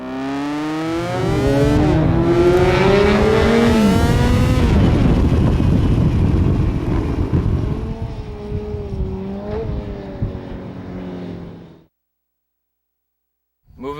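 Motorcycle engine in the PureBred Riders video game during a rolling endo, a loud sustained roar with pitch sweeps rising and falling as the revs shift, holding for about eleven seconds before cutting out abruptly.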